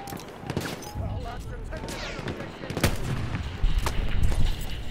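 Gunfire from a Battlefield 1 multiplayer match on Xbox One, with repeated shots and bursts crackling through a busy battlefield din, growing louder and denser toward the end, with faint voices mixed in.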